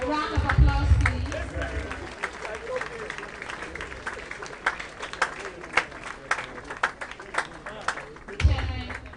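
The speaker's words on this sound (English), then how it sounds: "A round of applause, please." Audience applause at the 67th anniversary celebration of St. John's School in Sekondi, steady clapping with crowd murmur and voices mixed in, building near the start and swelling again toward the end.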